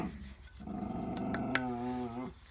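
Dogs growling nearby in a low sustained rumble that rises into a tonal whining growl, loud and close, with no speech over it.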